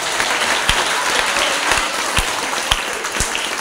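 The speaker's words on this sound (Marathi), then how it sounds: "त्यांच्यासाठी परत एकदा जोरदार टाळ्या झाल्या पाहिजे" An audience at a school lecture breaks into loud, sustained applause, dense clapping with a few sharper claps standing out, and no talking.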